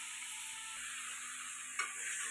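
Soaked puffed rice tipped into a hot sizzling tempering for borugula upma, a steady broadband frying hiss throughout with a brief stirring scrape near the end, no voices.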